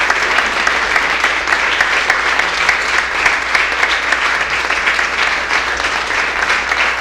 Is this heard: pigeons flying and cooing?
no